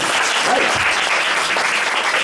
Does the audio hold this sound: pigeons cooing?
no